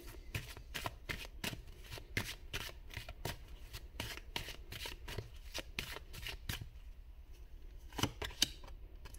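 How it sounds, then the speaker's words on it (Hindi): Tarot cards being shuffled in rapid riffling bursts, a steady run of crisp close flutters repeating every half second or so, alone with no voices. "एक कार्ड मैं और निकालूंगी"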